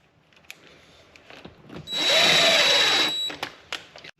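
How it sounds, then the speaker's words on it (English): A power drill drives screws into a wall stud to hang a magnetic gun mount, with a loud whirring run of about a second amid scattered handling clicks and knocks. "So 4 screws onto the wall."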